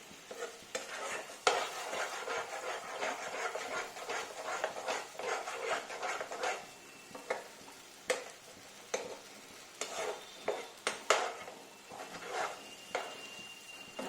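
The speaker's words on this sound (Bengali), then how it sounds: "এবার কাজ হচ্ছে শুধু নাড়ানো খুব ভালো করে নাড়িয়ে যেতে হবে" A sweet mixture made from jackfruit seeds is stirred in a pan, with repeated scraping and rubbing strokes of a spoon over a soft sizzle, close and continuous, with irregular pauses and no speech.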